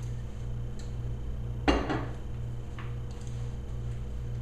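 A lid is set onto a container in a kitchen with a single clattering clack and a brief rattle, followed by quiet room tone and faint small clicks.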